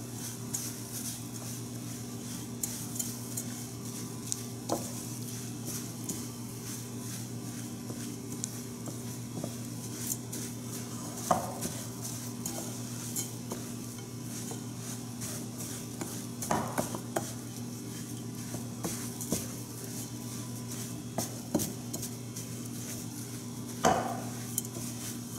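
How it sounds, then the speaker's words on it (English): Homemade granola bar ingredients being stirred together in a bowl: soft, faint scraping and light clicks come in an irregular rhythm over a steady low background hum. "Now we're just going to mix it all together."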